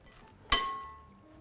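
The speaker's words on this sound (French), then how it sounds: "Là, on peut mélanger." One sharp clink of a utensil against a dish while a goat cheese and honey salad with lardons is mixed, close and bright, ringing briefly before it fades into quiet.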